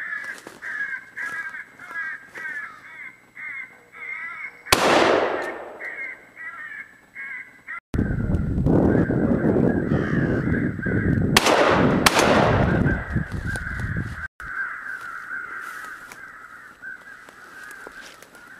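Several crows caw repeatedly in answer to crow calls during a crow hunt, raucous and fairly close, while a few sharp, loud gunshots crack out and echo between the calls.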